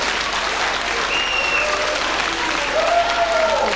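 Steady, dense applause from a festival audience at a folk festival, sustained at an even loudness throughout with no voices standing out.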